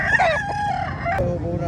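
A rooster crows once at a busy public chicken market in Cebu City, loud and close, over steady crowd and market noise.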